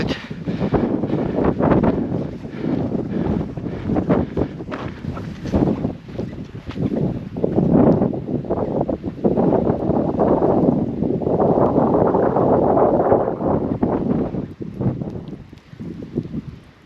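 Strong wind buffets the microphone in the Himalayas, a loud continuous roar with gusty surges and rustling, carrying dust through the air and lasting throughout with no voices.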